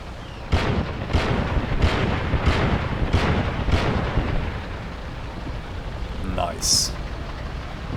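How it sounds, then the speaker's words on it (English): Covering fire from an AA half-track in the video game Tank Warfare Tunisia 1943 comes as six evenly spaced heavy booms over a rumbling, rain-like backdrop, followed by a brief electronic tone. "While the AA half-track will provide some covering fire,"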